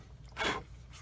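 A flat sanding stick rubs a plastic part of a 1/48 scale AMT/ERTL P-40F Warhawk model kit, giving one short, soft, close scraping stroke with quiet surroundings.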